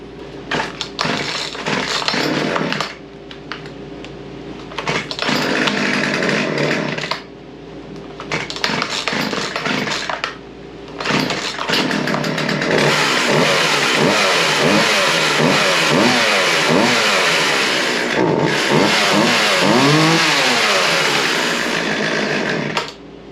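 A repaired Craftsman chainsaw engine runs loud and close, cutting out and restarting a few times, then idling and revving repeatedly with rising and falling pitch; it runs slightly rich and has an exhaust leak.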